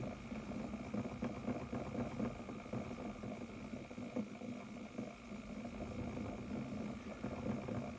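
The motor of an Electric Eel Wheel Nano electric spinning wheel runs as a steady, low mechanical hum with a faint buzzy vibration, continuous and quiet throughout, with no speech.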